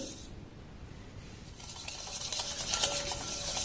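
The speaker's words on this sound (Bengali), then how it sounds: "তেল আর চিনিটাকে এবার আমি খুব সুন্দর করে ব্লেন্ড করে নেব।" Oil and sugar are blended in a bowl for a semolina malai cake, giving a soft continuous scraping and rubbing of a utensil against the bowl, close and fairly quiet, growing a little louder and busier toward the end.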